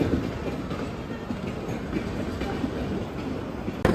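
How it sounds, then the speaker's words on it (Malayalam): A Mumbai local train rumbles past close by, a steady loud roar of rolling wagons with faint rhythmic clatter from the wheels, continuous throughout with no talking. "ഇതിവിടെ ഓടുന്നൊരു ലോക്കൽ ട്രെയിനാണിത്."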